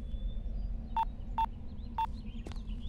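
A phone number is dialed on a telephone keypad, three evenly spaced short tones followed by a brief electronic chirp, clear over a low steady hum.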